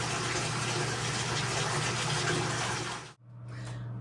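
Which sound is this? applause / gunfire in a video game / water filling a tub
water filling a tub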